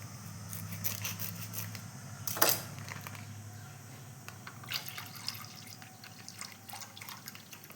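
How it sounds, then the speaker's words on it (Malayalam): Packet milk is poured into a pot for Vishu payasam in a quiet, soft trickle with scattered drips and light splashes, close by. "2 കവറിൽ പാല് കുറച്ചും കൂടി ഞാൻ ഒഴിക്കുന്നുണ്ട്"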